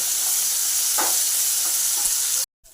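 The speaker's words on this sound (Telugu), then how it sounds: "ఇప్పుడు కట్ చేసి పెట్టుకున్న ఆనియన్ వేసుకోవాలి. ఆనియన్ వేసుకొని బాగా కలుపుకోవాలి." Chopped onions sizzle loudly as they go into hot tempering oil for a Telugu gongura chicken curry, with a few soft spoon stirs over a steady frying hiss before it cuts off abruptly near the end.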